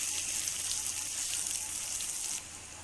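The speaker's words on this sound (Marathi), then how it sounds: "घाटी मसाला त्यानंतर हळद धणा पावडर आणि गरम मसाला हे सर्व टाकून व्यवस्थित परतवून घेऊया" Ghati masala, turmeric, coriander powder and garam masala sauté in a pan for a snake gourd and dried fish bhaji, making a soft, even sizzle that drops off abruptly just before it ends.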